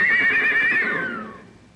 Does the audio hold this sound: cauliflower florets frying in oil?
no